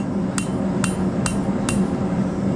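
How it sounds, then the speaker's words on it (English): Metal being hammered into a trammel hook: four sharp, ringing strikes spaced roughly half a second apart over a low background hum, close and clear with no talking. "Now I'm gonna roll it up and I'm hammering it to myself."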